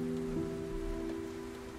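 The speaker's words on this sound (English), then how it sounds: "the sound of the rain lulls you into a state of deep relaxation." Steady rain falls at night around a boathouse, a soft, even patter that holds constant throughout with a faint low hum beneath it and no voices.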